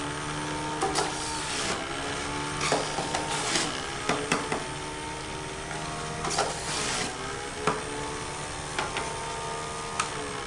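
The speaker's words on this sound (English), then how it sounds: "Now we're going to juice some apples." Omega 4000 centrifugal juicer running at 5,200 RPM while apples are fed in, a steady motor whine with repeated thumps and grinding bursts as each piece hits the spinning basket.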